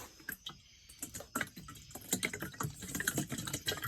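Water sloshes and splashes inside a repaired plastic gas tank as the tank is lifted and tipped, making irregular clicks and liquid knocks that grow busier toward the end.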